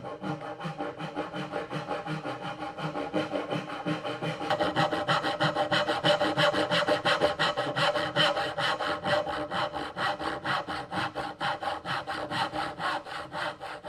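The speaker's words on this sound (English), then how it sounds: "then we're going to clamp this up in the vise and just with a handsaw slot these holes" A handsaw cuts slots into a piece of wood clamped in a vise, a steady rhythmic rasp of back-and-forth strokes, close and continuous with no talking.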